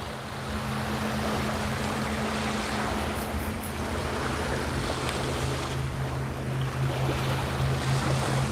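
A fast boat engine drones steadily across open sea off Cape May, New Jersey, mixed with wind and the wash of waves, fairly loud throughout.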